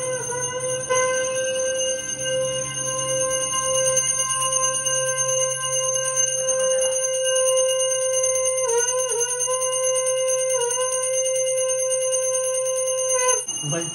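A temple bell rings steadily and loudly through a puja, its bright sustained metallic tone filling the whole stretch with brief wobbles in pitch, alone without talk.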